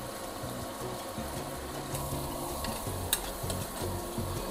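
Food sautéed with salt, garlic powder and chicken powder sizzles steadily in a pan. A utensil stirs and scrapes it in an uneven rhythm, with a few sharper clinks against the pan, and no voices.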